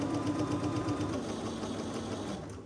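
A sewing machine stitches fabric pieces for a quilt block at a short stitch length, a steady rapid mechanical whir running continuously at close range, then cutting off at the end.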